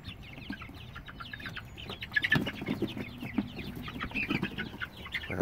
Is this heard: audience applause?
no